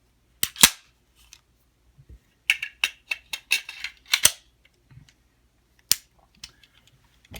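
A .45 1911 pistol is handled up close: sharp metallic clacks and clicks come as the magazine drops out and the slide is worked to check the chamber, in irregular clusters with quiet gaps between them.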